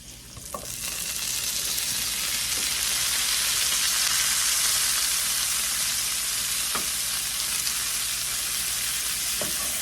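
Broccoli sizzling in a pan of bacon drippings, a loud, steady hiss of frying that holds throughout, broken by a few soft clicks of stirring or utensil contact.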